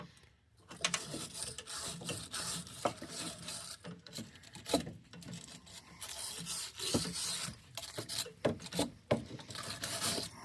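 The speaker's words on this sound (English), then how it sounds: "let me see if I can wire brush it a little bit while I got in here" Wire brush scrubbing surface rust on a 1968 Mustang, a steady run of harsh scratchy rasping strokes, close and fairly loud, with uneven rhythm and brief pauses between bursts.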